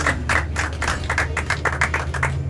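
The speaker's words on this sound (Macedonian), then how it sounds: "Еден аплауз ве молам." Studio audience applause on a Macedonian TV show, a steady run of claps with an even rhythm that fills the whole stretch, fairly close and loud over a low background hum.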